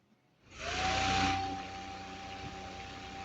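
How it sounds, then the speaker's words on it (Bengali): A small rechargeable electric fan whirs to life and keeps blowing with a steady airy rush and a thin constant whine. "আশা করি আপনারা শুনতে পাচ্ছেন বাতাসের শব্দ"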